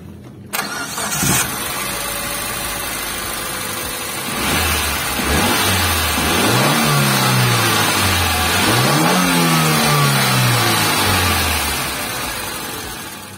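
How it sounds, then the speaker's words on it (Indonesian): A Suzuki Mega Carry pickup's engine cranks and catches, settles into a close, loud idle, then is blipped through several rising and falling revs before dropping back toward idle. "sekarang kita pengen coba dengar suara mesinnya kayak apa gitu ya"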